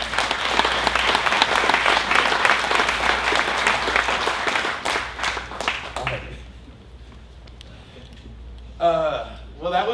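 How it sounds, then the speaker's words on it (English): Audience applause at a graduation celebration, dense steady clapping for about six seconds that thins out and fades, followed by a voice speaking near the end. "I'd love for you to give him a round of applause."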